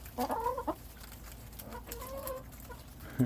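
Chickens cluck softly nearby in short, bright bursts while being fed Doritos, a few calls repeating against a quiet, slightly noisy background.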